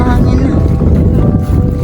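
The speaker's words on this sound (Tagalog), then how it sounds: "Mahangin na." Steady wind roars and buffets against the microphone, loud and continuous throughout.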